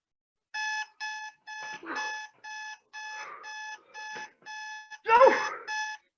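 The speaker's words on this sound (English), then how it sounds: "turned off his alarm clock" An alarm clock rings in repeated short electronic beeping bursts at a steady rhythm, loud and close, while a voice speaks under and between the rings.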